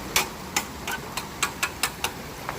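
A rock used as a hammer strikes a metal bar while digging at a dirt site with an old box on a pivot, making about nine sharp metallic knocks spaced roughly every quarter to half second, close and clear over quiet outdoor background.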